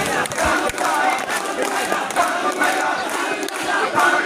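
A street procession crowd at a political rally chants slogans together, a loud, continuous roar of voices with scattered claps.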